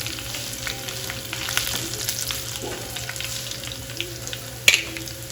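Bay leaf, two red chillies and curry leaves fry in hot oil with a steady, close sizzle, with occasional light stirring clicks and a sharp spatter near the end.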